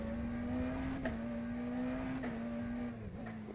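A McLaren Senna GTR race car in rFactor 2 holds a steady, high engine drone through a chicane, with brief dips and catches at gear changes before easing off; no one talks.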